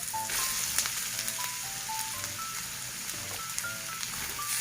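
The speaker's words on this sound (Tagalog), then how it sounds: "Ilalagay ko na po itong hotdog." Hotdogs fry in oil with garlic and onion, a continuous close sizzle and crackle throughout, with a faint melodic electronic tune playing in the background.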